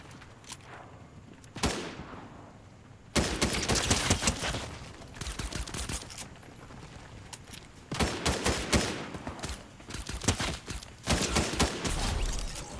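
Fortnite gunfire in loud, rapid bursts of several seconds each, separated by short quiet gaps, with a single sharp shot early on.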